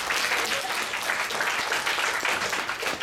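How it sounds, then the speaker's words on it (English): Audience applause during a motivational talk: a dense, even wash of clapping from a room full of people, held steady for a few seconds. "Give yourself a round of applause again"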